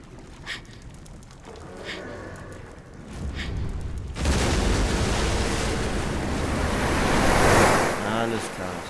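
Water waves in the video game The Last Guardian: a broad, loud rush of surging water swells in after a quieter opening and rolls on steadily, close and alone.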